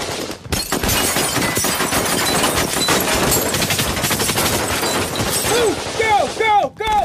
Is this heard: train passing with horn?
no